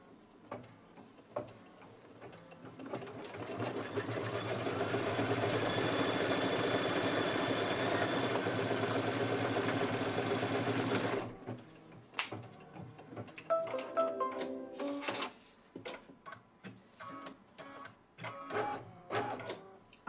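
An embroidery machine stitches a placement line, a close steady mechanical whir for several seconds, then stops and gives way to irregular clicks and thumps as it resets.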